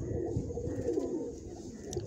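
A wild pigeon chick cooing softly and continuously, a low murmuring coo held close over a steady, faint background.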